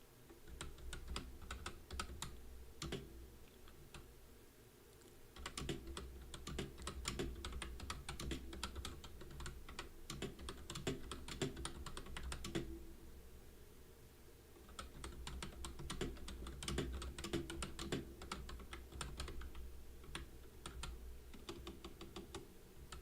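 Rapid bursts of typing on a computer keyboard, the key clicks clattering steadily with brief pauses between runs, close and fairly quiet with no talking.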